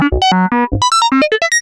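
Steady synthesized vowel-like tones from a filter plugin with its modulation switched off, a quick run of distinct pitched notes, loud and close, without any wobble.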